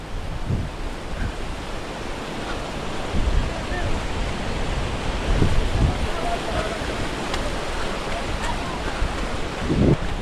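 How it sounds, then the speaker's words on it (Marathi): A river flowing alongside a mountain trekking trail after rain, a steady broadband rush of moving water with gusts of wind noise, continuous and fairly loud throughout. "मस्त पाऊस पडून गेलाय. साईडनं नदी वाहतीये."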